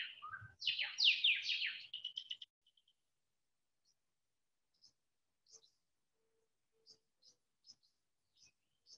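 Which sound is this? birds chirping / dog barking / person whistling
birds chirping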